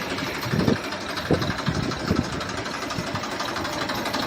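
A one-owner Massey Ferguson 1035 DI tractor with a rebuilt 39-horsepower engine runs at idle, a steady close knocking chug with a few louder pulses.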